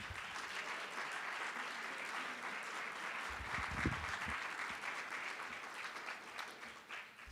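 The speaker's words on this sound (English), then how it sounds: "let's give our graduates one more round of applause" A graduation ceremony audience for MA and PhD psychology graduates claps in a steady, dense round of applause that holds throughout, fairly distant and even, with a few low thumps in the middle.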